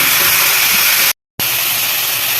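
Tomatoes frying with onions in a pan for brinjal kuzhambu give off a loud, steady hiss of sizzling oil that drops to total silence for a split second before resuming just as strongly, with no talking.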